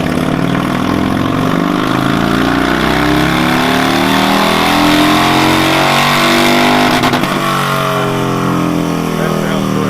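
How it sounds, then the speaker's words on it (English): Harley-Davidson Street Glide performance bagger with a D&D 2-into-2 exhaust idling close by, a deep steady rumble holding loud and continuous throughout with slight lumpy pulsing. "that is the D&D 2 in the 2. Those pipes sound awesome"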